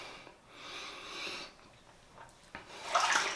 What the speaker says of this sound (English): I'm just going to throw in another teaspoon of water into the bowl